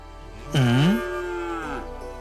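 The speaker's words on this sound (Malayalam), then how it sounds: "എവിടുന്നോ വഴിതെറ്റിയൊരു പശു" A stray cow lets out one long, loud, rising-then-falling moo close by in a Malayalam film scene, fading into a quieter, steady background.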